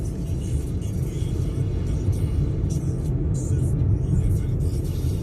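A Hyundai i20 Sportz petrol car cruises on a highway, its steady engine hum and road rumble filling the cabin continuously beneath someone talking.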